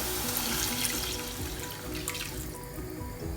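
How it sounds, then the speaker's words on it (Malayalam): A cup of water poured into quinoa for upma, a continuous close splashing stream with a few drips toward the end, and no voices. "ഇനി ഞാൻ ഇതിലേക്ക് 1 കപ്പ് വെള്ളമാണ് ചേർക്കുന്നത്."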